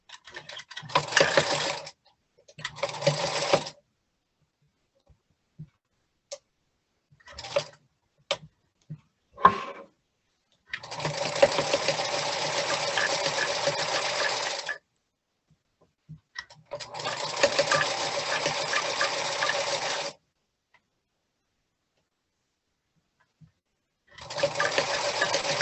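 A sewing machine stitches twill tape around the edge of an apron in several bursts of steady, rapid whirring. Short pauses between bursts are filled with small clicks and handling noises, and one long run of stitching sits in the middle, all close and without talk.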